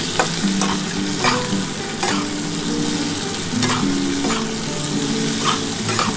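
Vegetables with potato and poppy seed paste fry loudly in a pan and are stirred. A dense, steady sizzle runs throughout, with repeated scraping strokes about once a second, and there is no talking.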